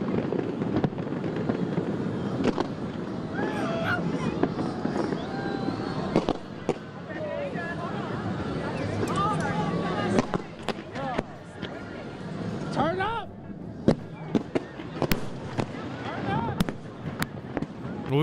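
Fireworks on the National Mall crackle and pop in scattered bursts, with sharper cracks near the end, under continuous talk and a background crowd.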